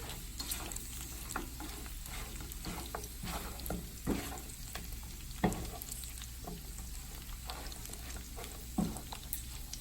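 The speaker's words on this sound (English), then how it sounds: "This is what we want for them to start getting fried. You could fry them as much as you want." Pork ribs fry in oil with a dense, steady sizzle and crackle up close, and occasional scrapes and knocks come from stirring in the pan.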